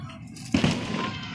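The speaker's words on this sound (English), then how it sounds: "As you can see behind me, we have fireworks." Fireworks explode at night, with one fairly close sharp burst followed by a quick second crack and a brief rumbling tail against a faint background.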